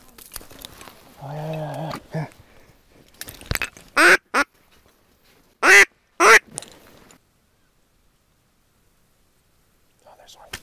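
A female wood duck calls during a public-land duck hunt, giving a few sharp, loud bursts separated by pauses, while people talk quietly nearby; tagged as quacking.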